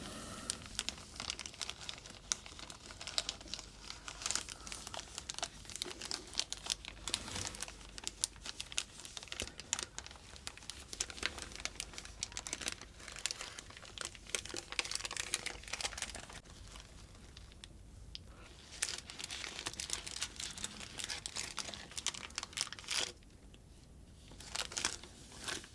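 A Hot Toys Han Solo figure is unwrapped from its plastic packaging, with a long, continuous close-up run of soft crinkling and rustling plastic, briefly quieter in places, and no talk.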